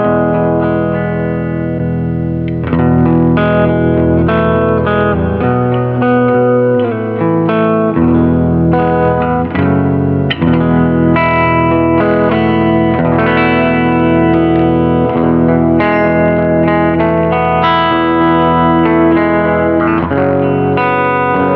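Electric guitar played through a Welsh-built Marshall Plexi amplifier with a Crowther overdrive pedal, loud and thickly distorted, sustained chords and riffs ringing continuously with no pauses for the full length and no talking.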